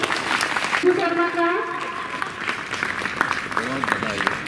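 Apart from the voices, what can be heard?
applause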